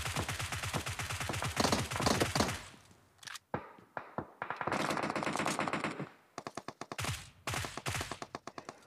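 Rapid bursts of PUBG gunfire from a UMP45 submachine gun, automatic fire in long strings with short pauses, then scattered single shots and more quick volleys.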